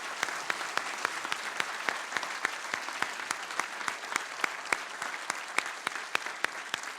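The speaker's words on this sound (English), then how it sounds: "How about a round of applause for all of the above?" Sustained round of applause from an audience at an honorary doctorate conferment ceremony, with dense clapping and sharp individual claps standing out, steady and moderately loud throughout.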